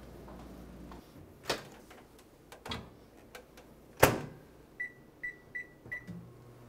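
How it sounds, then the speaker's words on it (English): A microwave oven heating a paper-towel-wrapped sweet potato: clicks and thumps of the door and buttons, then a short run of four evenly spaced high beeps near the end, quiet and close. "we're going to put it into a microwave for about 8 minutes"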